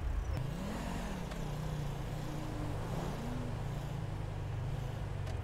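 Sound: big truck speeding past in GTA 5 video game

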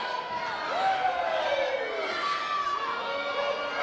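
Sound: wrestling show crowd cheering in Brooklyn

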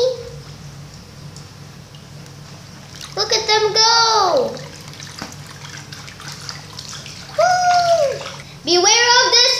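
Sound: water splashing in toy wave pool

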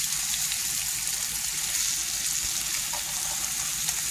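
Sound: stuffed chicken breast frying in a pan

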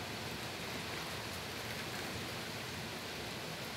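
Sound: heavy rain

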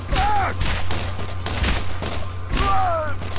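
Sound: gunfire from the video game Borderlands

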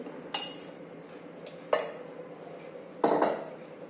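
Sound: spoon adding oil to a pan

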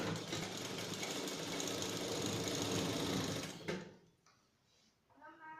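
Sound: sewing machine stitching along the edge of a frock

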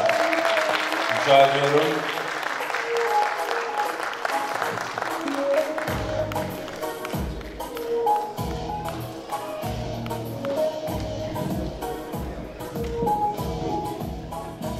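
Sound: audience applause

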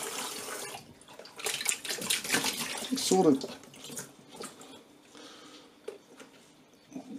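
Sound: water rinsing through a washer dryer

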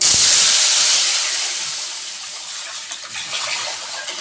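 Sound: tamarind and tomato water poured into hot pan for rasam

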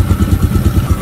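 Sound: motorcycle engine idling after a cold start

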